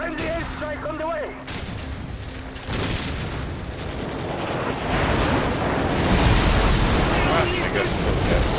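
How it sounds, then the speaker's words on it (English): A friendly airstrike in a video game sets off dense, rumbling explosions and gunfire. The noise builds into a sustained, loud barrage after a short stretch where a voice is heard at the start. "Friendly airstrike on the way!"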